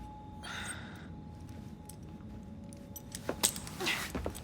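Keys jangling in the video game Assassin's Creed Syndicate: a couple of brief metallic clinks and rattles near the end, over a low background hum with a faint breathy sound earlier.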